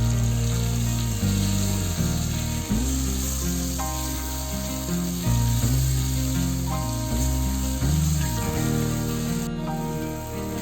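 Garlic, green chilli and tomato sauté in a pan for a goat intestine gravy. A continuous sizzle sits under loud background music throughout.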